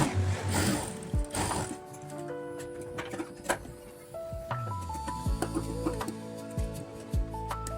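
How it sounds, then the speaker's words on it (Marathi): A sewing machine runs in short bursts while stitching the centre seam of blouse fabric, with close mechanical ticking, whirring and ratcheting between pauses. "आता तो इकडे सेंटर शिलाई मारायची"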